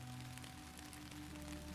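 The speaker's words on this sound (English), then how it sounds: "The slow, patient kind of rain that has been going on for an hour and intends to be going on for another 2." Slow, patient night rain falling steadily outside, heard as an even, close wash of soft patter with a faint low electrical hum beneath and no talking.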